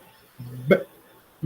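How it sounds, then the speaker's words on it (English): A single short hiccup from a man, a voiced catch followed by a sharp gulp, close and clear against near silence. "Yeah, I got the hiccups. I got the slight hiccups."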